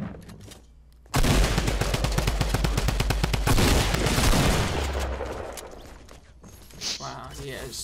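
Gunfire in the video game Fortnite Battle Royale, including a pump shotgun: a loud, dense barrage of rapid shots that starts abruptly and runs for several seconds before fading, with players talking over it.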